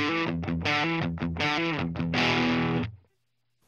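A Rocktek ODR-01 overdrive pedal is switched on with the drive turned down and only the level raised, so an electric guitar plays a short run of choppy chords and then one sustained strum that fades into silence.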